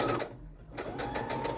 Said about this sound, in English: bring the sewing machine back over again. And then we're going to give it a straight stitch.